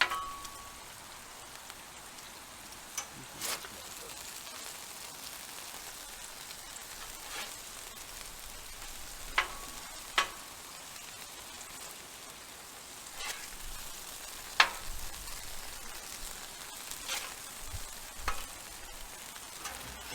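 Smash burgers and fries cooking on a Blackstone griddle, a soft continuous sizzle with scattered faint clicks and pops of spatula work, fairly quiet and without speech.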